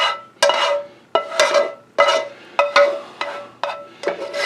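A spatula scrapes onion and mushroom gravy out of a metal pan in a series of about eight short, close scraping strokes with small clinks, clear and without talk.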